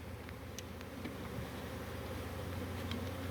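A dense, steady hum of many buzzing honeybees just dumped from a package into a hive, continuous and close, with no voices over it.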